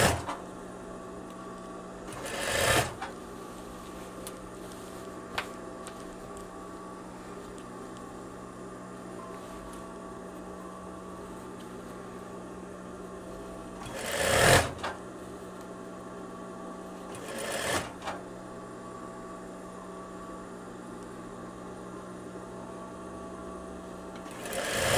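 Sewing machine stitching on the collar of a veterinary coverall, a steady mechanical whir and hum broken by three short louder bursts of fast stitching, with no talking.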